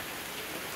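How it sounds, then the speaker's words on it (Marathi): Heavy monsoon rain falls as a steady, dense broadband hiss, a brief even wash of water with no other sounds. "पूर्ण पाऊस आलाय"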